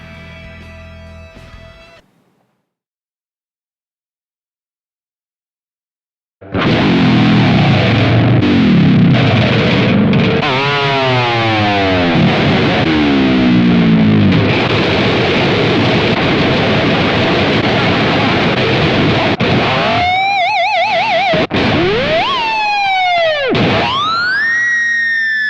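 An LTD Cult '86 electric guitar played through its active EMG 81 bridge pickup: a short clean passage, a pause of silence, then loud, sustained distorted chords and bends with effects, ending in squealing, pitch-swept feedback-like notes.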